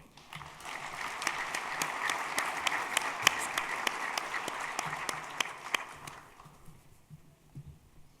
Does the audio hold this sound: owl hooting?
no